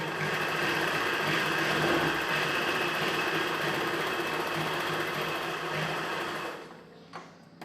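A sewing machine runs continuously, double-stitching the seam of a chudidhar pant. Its steady, close, loud whir holds for about six and a half seconds, then stops abruptly, followed by a few faint clicks.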